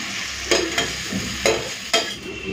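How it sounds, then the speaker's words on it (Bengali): Ground raw banana peel paste fries in a pan with a steady sizzle, broken by a few sharp scraping stir strokes about half a second apart. It sounds close and fairly loud, with no voices. "এইভাবে একটুখানি মেলিয়ে মেলিয়ে খোসা বাটাগুলোকে ভেজে নেব।"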